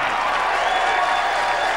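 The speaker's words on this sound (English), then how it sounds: "Urging the crowd to cheer him on." Crowd at a bowling championship applauding and cheering with steady dense clapping and a bright hiss of voices, continuous and close throughout the short stretch.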